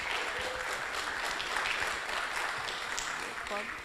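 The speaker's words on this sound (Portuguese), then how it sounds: "Uma salva de palmas." Steady applause from a sizable audience fills the whole stretch, dense and even, with a few faint voices or whistles mixed in.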